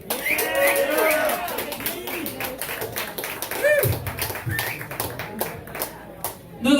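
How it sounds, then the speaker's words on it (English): Audience at a veterans' comedy show clapping, scattered close claps throughout while a host speaks over them, with a whoop from the crowd partway through. "Another round of applause"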